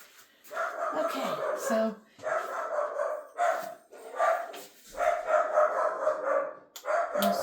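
A dog barking at a gnat outside a window indoors, repeated loud, sharp barks in bursts with brief whines between them, close to the listener, with someone talking briefly.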